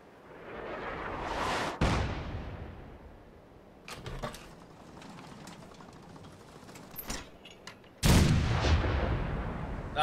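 Artillery rounds fall and burst in the video game Fallout 4, with heavy booming impacts at the start and near the end and scattered sharper blasts and crackles in between, loud and without talk.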